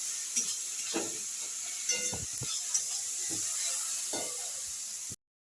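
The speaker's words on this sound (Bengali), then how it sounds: "লঙ্কা গুঁড়ো দিয়ে দিলাম এবার আমি মশলাটাকে কষিয়ে নিচ্ছি" Spices with turmeric and chilli powder sizzle in a pan for a banana-flower dish, a steady hiss with scattered scraping stir strokes, close and fairly quiet, cutting off abruptly near the end.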